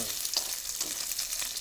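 Pork fat frying in a pan for a grilled eggplant dish with scallion oil, a steady close hiss and crackle of sizzling fat with no talk.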